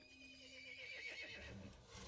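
A horse whinnies in the Resident Evil Village video game, a drawn-out neigh rising over a dense, moderately loud game soundscape with no voices.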